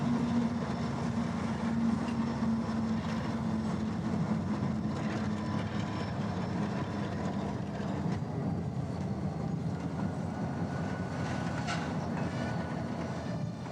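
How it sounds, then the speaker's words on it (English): Union Pacific local freight train led by an EMD GP40 locomotive rumbling past on Colorado's Joint Line, a steady loud roar of engine and rolling wagons with faint rail clatter. "This week's UP Local rates SP 7131 and EMD GP40 upgraded by MK Rail with new components."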